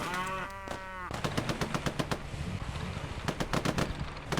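Bursts of MG34 machine gun fire in the Finest Hour video game, rapid rattling shots in quick strings at moderate distance, following a short tonal sound.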